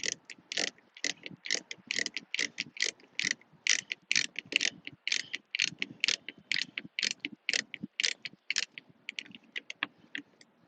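A ratchet socket wrench tightens a bolt on a billet aluminum parking brake, giving a long run of quick, sharp clicking strokes in steady rhythmic bursts, close and clear with no talking.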